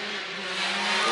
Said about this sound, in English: motorbike scared them off